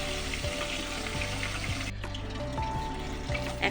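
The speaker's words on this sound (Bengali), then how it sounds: "খুব সিমে করে মাছটা ভাজতে হবে অল্প আঁচে" Katla fish frying in oil over low heat, giving a steady close sizzle with soft crackles and a few clinks of a utensil against the pan, with no one speaking.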